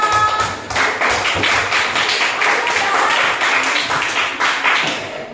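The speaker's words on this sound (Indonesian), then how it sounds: "Tepuk tangan dulu kelompok mangga." A classroom of pupils claps for the mango group during a coding lesson, fast dense clapping from many hands, steady and close, lasting several seconds before tapering off.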